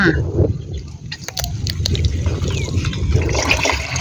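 Liquid fermented banana fertilizer is poured onto small, newly planted seedlings, producing a continuous close splashing and trickling with a few sharp spatters, steady and fairly loud, with no talking.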